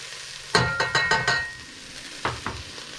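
Garlic fries in a hot pan for a street corn soup, heard as a low sizzle broken by about half a dozen sharp, close stirring scrapes in quick rhythm, then two more after a pause.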